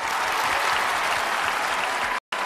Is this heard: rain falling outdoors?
no